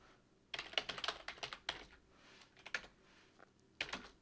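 Close, quiet typing on a computer keyboard during coding, with bursts of rapid key clicks separated by brief pauses.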